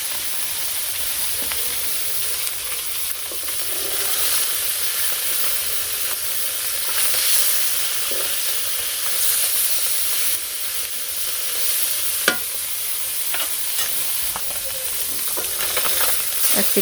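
Small fish coated in salt, turmeric and chili fry in a karahi: a continuous, loud, close sizzle and spitting hiss that swells and eases, with occasional utensil clicks and no talking.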